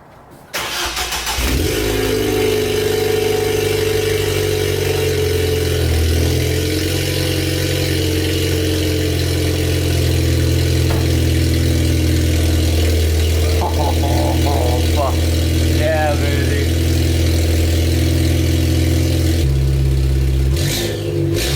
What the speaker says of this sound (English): A little bit of cold start action.